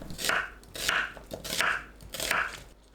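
Knife slicing an onion into thick pieces on a cutting board: four evenly spaced crisp crunching cuts, close and fairly quiet, each with a short juicy crackle.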